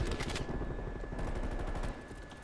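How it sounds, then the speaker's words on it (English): Rapid, muffled bursts of suppressed AK rifle fire in Call of Duty on the Nuketown map, a quick, dense rattle of shots at moderate level without talk. "This AK is nasty, man. Like, especially with the silencer on it, bro."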